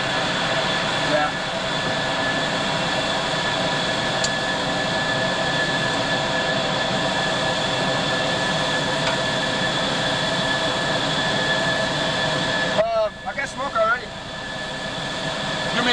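F-111E jet engine running during a ground engine run at RAF Upper Heyford, UK, a loud steady roar with whining tones that holds constant throughout, then dips slightly near the end as brief chatter breaks in.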